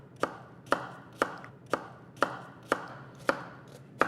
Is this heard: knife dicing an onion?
yes